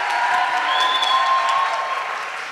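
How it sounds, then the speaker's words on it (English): A large crowd at a university careers event applauds steadily in a hall, with a faint tonal whine running underneath the dense clapping. "Give yourselves a big round of applause for being here."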